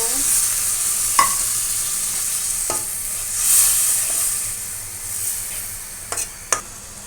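Chopped onions and tomatoes sauté with a splash of water for a hilsa fish dish, giving a continuous soft sizzle broken by a few sharp spatula scrapes and taps, the last ones close together.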